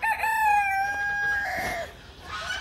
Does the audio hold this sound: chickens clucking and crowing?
yes